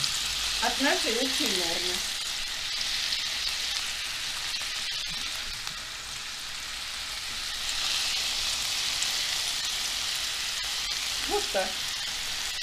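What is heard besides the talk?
apples frying in butter in a pan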